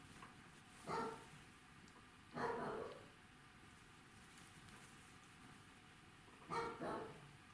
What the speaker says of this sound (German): jetzt hört man meinen Hund